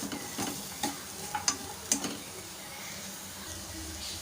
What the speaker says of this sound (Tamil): இப்போ இது எல்லாத்தையும் அப்படியே கலந்து விட்டுக்கோங்க